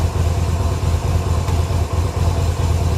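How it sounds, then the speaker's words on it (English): A car engine idles steadily just after being started on choke, a close, loud, low rhythmic rumble with an even pulsing throb and no talk over it. "Well, that started right up. Give it a little less choke. Let it run for a minute."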